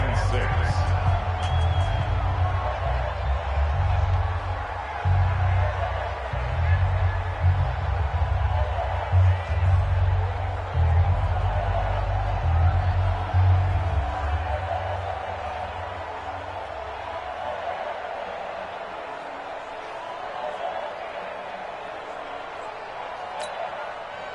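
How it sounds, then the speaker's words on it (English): Stadium crowd noise from a PS4 football video game swells ahead of a big third down late in the game, a steady roaring wash of cheering with a low rumble, fading slightly near the end, under a commentator's voice. "the crowd getting into it as we come up on a big third down"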